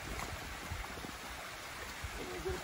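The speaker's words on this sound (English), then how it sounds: "look at this pretty little waterfall we're coming up on" A small waterfall on a hiking trail along the Appalachian Trail, pouring as a steady close rush of falling water that stays even and fills the whole moment, with no voices over it.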